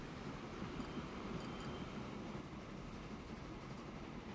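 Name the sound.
oil train passing, Transport Fever 2 video game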